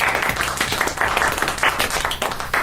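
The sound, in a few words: studio applause for new F1 champion Lewis Hamilton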